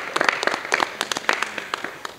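An audience cheering for a newly named secretary at a youth choir gathering claps in a quick, scattered burst of handclaps, moderately close and fading after a couple of seconds.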